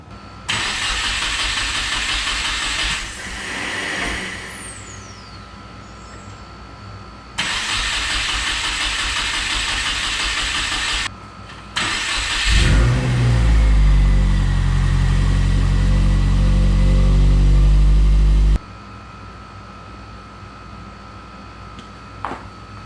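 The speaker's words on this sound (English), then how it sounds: "we will fire it up and try to get some oil pressure through it" A Subaru WRX/STI with an EJ25 engine cranks in several long bursts with brief pauses, then fires and settles into a loud, rumbling idle before cutting off and cranking again, all close by.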